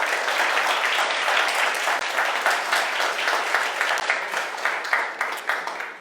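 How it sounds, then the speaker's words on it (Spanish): A church congregation claps steadily together during a Spanish-language worship service, a dense, continuous wash of applause that holds strong for about six seconds before thinning slightly at the end. "Dale un aplauso al Señor"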